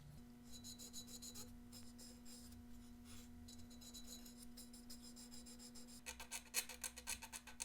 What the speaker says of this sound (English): I'm just using a dental pick to try to scrape a little bit of this rust off of here